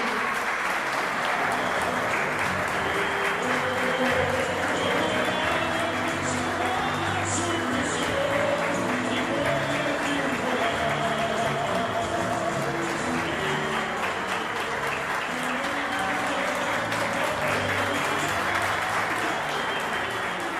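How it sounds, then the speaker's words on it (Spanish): Audience applause at a news event, sustained steady clapping from a crowd lasting throughout, fairly loud and dense with no pauses. "Recibimos con un fuerte aplauso a Diana Temcha."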